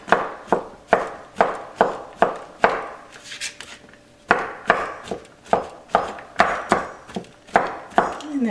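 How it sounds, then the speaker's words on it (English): Ingredients for a Western omelette get a rough chop on a cutting board: steady, evenly spaced knife strikes land close and clear, with a short pause midway before the rhythmic chopping resumes. "So you'll want to give this a nice rough chop."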